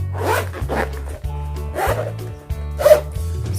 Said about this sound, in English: The zip actually starts from here and ends here.